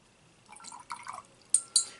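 A little water is added to an inexpensive one-dollar watercolor paint palette: faint, close liquid trickles and drips, then two sharp little taps near the end, with no talking.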